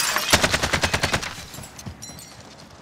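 Video game gunfire, a rapid automatic burst of about a dozen evenly spaced loud shots that fades into a few scattered, fainter reports.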